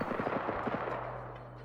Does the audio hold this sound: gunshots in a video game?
yes